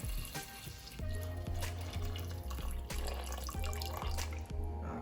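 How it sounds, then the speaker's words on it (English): A steady stream of hot water pours from a kettle into a pot of Jamaican oxtail, splashing continuously, with a few light metallic clinks. "I'm going to add the water from my kettle. It's hot water"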